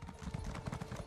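A Jubilee Festival horse in a fantasy video game trots with quick, rhythmic clip-clop hoofbeats, steady and close, with no talking over them.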